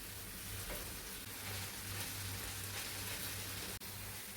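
Moringa leaves sizzling and frying in a pan with oil and tomato while masoor dal curry is made, a steady, even crackling hiss that runs unbroken, with no voices over it.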